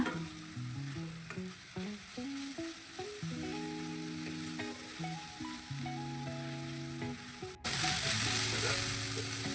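Ginger garlic paste frying in a hot pan gives a steady sizzle with stirring scrapes under a background melody. The sizzle grows louder and brighter near the end.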